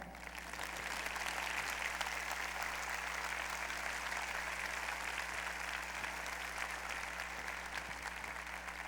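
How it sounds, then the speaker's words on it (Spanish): A church congregation at a Mother's Day service applauds steadily for mothers, the dense clapping fairly faint and constant over a low electrical hum. "Este era el momento para que todos le aplaudieran a su mamá."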